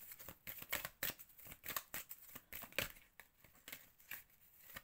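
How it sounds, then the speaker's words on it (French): Playing cards being handled and drawn from a deck give a quiet run of rapid papery flicks and slides in uneven bursts, close up, with no talking. "Je prends encore une dernière carte"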